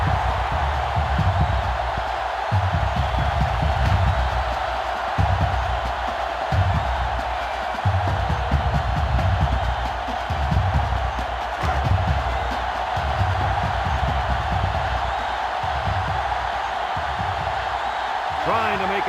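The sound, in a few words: stadium crowd cheering in NCAA Football 2005 video game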